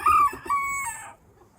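A single rooster crows once from nearby in a farm flock of chickens, a loud, clear call with a rising start and a short trailing end before it fades.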